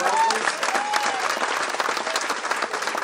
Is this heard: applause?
yes